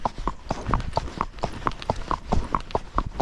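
Tennessee walking horse hoofbeats in a running walk going uphill, a steady four-beat clip-clop with evenly spaced, fairly close hoof strikes over light background noise.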